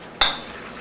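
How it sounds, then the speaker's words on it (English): A single sharp scrape of a utensil against a pan as eggplant is stirred, a brief metallic clink followed by a soft frying hiss that quickly fades. "we stir it together"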